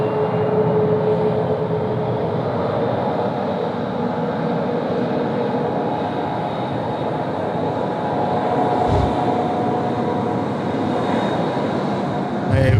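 A Boeing 737 MAX airliner rolling past at Sydney Airport, a steady broad engine rumble and whine heard from a moderate distance, holding fairly even with a brief low thump midway.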